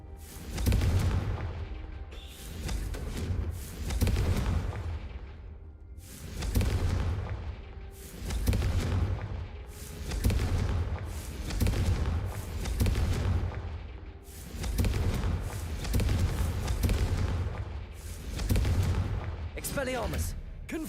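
Confringo fire spells in a Harry Potter video game, heavy booming blasts repeating in a steady rhythm, each swelling and fading under game music and intermittent voices.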